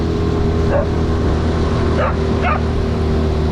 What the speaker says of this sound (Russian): Настоящая охотничья собака.